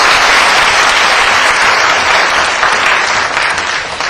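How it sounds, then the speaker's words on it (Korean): Dense, loud applause from an audience at a university debate competition awards ceremony, steady clapping throughout with no speech. "시상을 도와주신 김동윤 교수님께 박수 한번 부탁드립니다."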